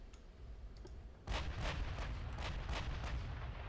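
Battleship guns fire in Ultimate Admiral: Dreadnoughts as a series of distant booming shots in quick succession after a quieter opening, with a rumbling naval-battle backdrop and no voices.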